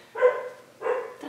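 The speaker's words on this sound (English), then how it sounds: "That's my dog barking." A dog barks twice nearby in a quiet indoor room, two short, fairly loud bursts about half a second apart with a faint third yip trailing at the end.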